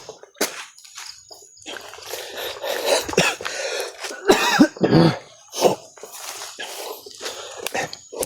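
A person coughs again and again, harsh throaty bursts with some throat clearing, close and loud, spread unevenly over several seconds with short quiet gaps between them.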